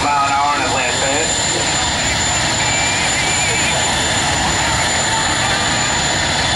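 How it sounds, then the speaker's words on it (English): A jet dragster engine at a Halloween drag racing event roars loud and continuous at close range, a steady broadband blast with high whine, with crowd and announcer voices faintly under it. "Danny Sullivan, the Chicago Rush Jet Dragster coming to life"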